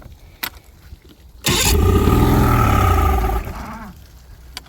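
An old outboard boat motor cranked with a key starter: a couple of faint clicks, then a loud, close churning roar for about two seconds before it cuts off and a lower rumble fades out.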